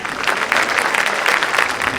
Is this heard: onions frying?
no